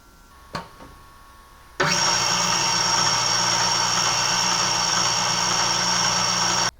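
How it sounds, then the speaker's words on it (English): A Macpi 730 rotary slitter with top and bottom feed rollers starts with a sharp click, then whirs loud and steady as it cuts along the waistline of seamless apparel, running without pause until it stops. "we're going to cut along the waistline using the Macpi 730 slitter."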